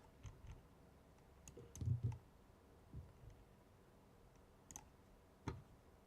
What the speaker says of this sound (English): I keep clicking the wrong one